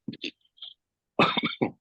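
A man coughs and clears his throat after inhaling pulverized snuff tobacco, first with a few short rough hacks, then after a pause with a louder, harsher run of close coughs.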